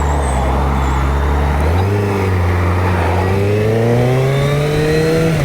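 A Suzuki Hayabusa GSX1300R 25th Anniversary motorcycle accelerates hard, its engine note climbing steadily through a gear change, loud and close throughout with no talk.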